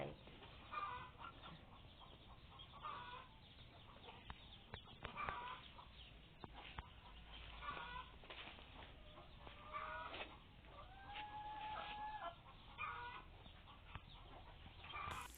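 Chickens cluck softly and intermittently around a farm enclosure, with scattered short calls and occasional brief squawks over a faint, quiet background.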